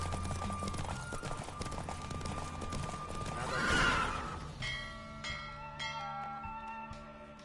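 Hooves clip-clop at a gallop in The Witcher 3 video game while a horse neighs loudly midway, its whinny rising and fading, with a steady rumble of movement throughout.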